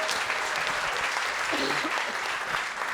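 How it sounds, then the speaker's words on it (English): Steady applause from a comedy club crowd cheering the wait staff, dense and continuous, with faint voices mixed in. "big round of applause for the wait staff here tonight"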